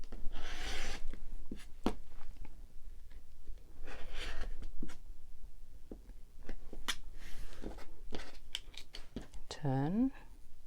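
Half rectangle triangle quilting fabric being trimmed, with quick crisp cutting and rubbing strokes scattered throughout, close and moderately loud, under a voice talking.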